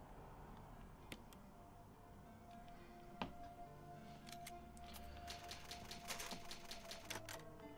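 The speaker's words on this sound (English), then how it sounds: "Oh, use the typewriter." Clacking keys of the save typewriter in the video game Resident Evil HD Remaster, a scattered series of sharp mechanical clicks that builds into a quicker burst of typing, faint over quiet game ambience.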